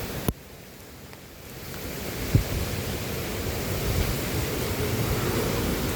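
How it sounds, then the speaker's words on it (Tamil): Heavy, continuous rain falls in Sri Lanka as a dense, even roar of hiss that swells slightly over time, with a couple of brief knocks near the start. "தொடர் மழை இலங்கையில்."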